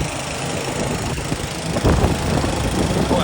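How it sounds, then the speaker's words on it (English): A generator runs nearby to fill air jack bottles in a race paddock at Silverstone, a steady loud mechanical drone throughout that grows slightly rougher and heavier in its second half, with no speech. "Very loud here because someone is running a generator, filling up their air jack bottles."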